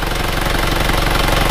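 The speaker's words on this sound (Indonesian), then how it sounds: "Nah, ini mesin sudah temperatur sudah baik." Warmed-up Isuzu Panther diesel engine idling after a repair with new liners, rings and sleeves, a steady, loud, close rumble with an even rapid knocking pulse and no talk over it.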